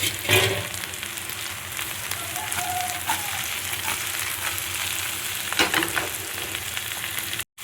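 Green chillies frying in oil with curry leaves for a Tamil tayir kuzhambu, a steady close sizzle with a couple of sharper crackling bursts and occasional spoon scrapes, no talking.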